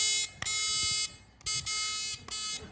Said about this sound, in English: This is the buzzer, right? If somebody says one of those five words, you buzz them with that.